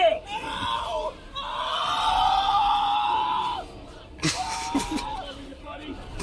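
A World of Warcraft character lets out a long, loud, strained scream, followed by a shorter, harsher yell with mumbled game voices around it.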